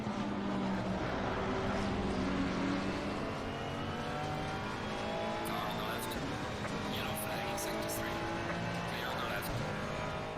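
Ferrari race car engine in the video game Assetto Corsa Competizione: a steady, high-pitched engine drone holds throughout, with other cars' engines whining nearby and someone talking over it.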